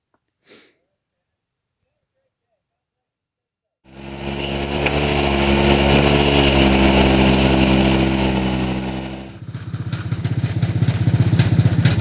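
A fueled-up snowmobile engine catches and runs steadily at a loud idle outdoors in an Alaskan winter before a freight run, holding a rough, even drone, then shifting to a harsher, buzzier tone near the end.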